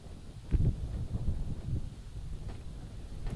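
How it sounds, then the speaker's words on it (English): A sudden gust of wind buffets the microphone at an outdoor target archery championship, a low rumbling roar that swells and flutters steadily with no voices. "Gust of wind All of coming a up sudden now. The wind's here."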